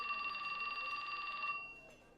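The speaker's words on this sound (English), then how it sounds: "His phone rang." A phone rings in the game 428: Shibuya Scramble, a steady electronic trill that pulses for about a second and a half and then cuts off, clear and close with nothing else over it.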